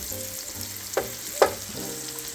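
Onions and potatoes for tater soup sizzle and fry in a pan with a steady crackle, broken by two short scraping stir sounds near the middle.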